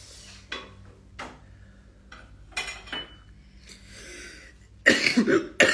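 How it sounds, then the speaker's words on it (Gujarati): Several harsh coughs from a cigarette smoker, spaced apart in a quiet room, with light clinking in between and the loudest, rough bursts at the end. "એટલે જ મને ઉધરસ થઈ ગઈ"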